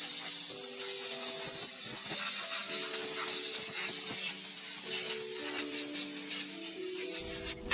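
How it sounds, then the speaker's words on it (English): Steady hissing spray cleaner with rubbing and wiping noises on an oily transmission pan of a BMW 320Li, running throughout, close by, over a background of low tonal hum. "we'll just spray down and clean off any oil residue on the transmission pan"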